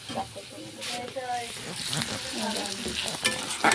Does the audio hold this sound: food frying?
yes